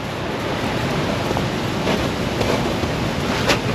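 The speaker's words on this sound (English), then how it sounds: "So we have a major Alaskan creek." Rushing water of a large Alaskan creek by an old timber bridge, a broad continuous roar mixed with gusty wind buffeting the microphone, no speech.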